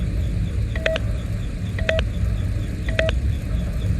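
Keypad tones in Five Nights at Freddy's Sister Location: three short paired beeps spaced about a second apart over a steady low mechanical rumble.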